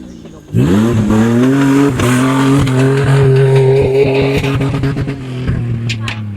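An off-road race car at an off-road event in YunFu, China, roars past close by, its engine note climbing as it accelerates, then holding a loud, rough drone that slowly eases off.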